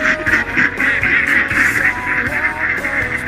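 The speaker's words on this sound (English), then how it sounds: "Mallard ducks. Canadian geese," Mallard ducks and Canada geese calling in spring at Bay City, Michigan, a continuous chorus of close honks and quacks overlapping with no pauses.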